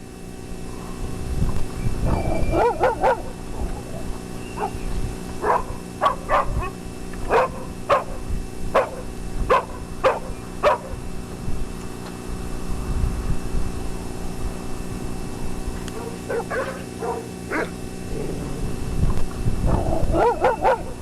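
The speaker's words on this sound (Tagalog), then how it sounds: "galit na galit yung aso." A dog barks repeatedly and aggressively in sharp bursts, some distance away, with pauses between flurries over a constant low background rumble.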